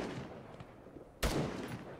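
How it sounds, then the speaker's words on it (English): Single sharp gunshot crack in the Arma 3 military video game, fairly distant and brief, standing out against a low background hum. "So, there's a guy taking shots at us."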